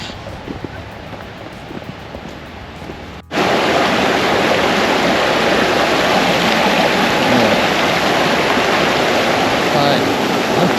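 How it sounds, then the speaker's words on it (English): Water rushing down a flooded, muddy woodland path near the old Magpie Mine ruins in Derbyshire, a steady broadband roar like a stream that swells abruptly louder after a few seconds and stays loud and close. "Pretty sure there's not supposed to be a river running down the path"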